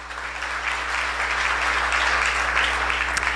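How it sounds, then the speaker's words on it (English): Steady applause from an audience at a chamber of commerce awards gala, even clapping held at a constant level throughout with a low hum beneath. "let's give them a hand"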